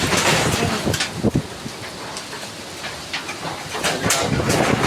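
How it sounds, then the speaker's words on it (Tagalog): Strong wind gusting and roaring against the microphone during a storm that cut the power, with irregular bursts and buffeting, and no talking. "Sobrang lakas po ng hangin."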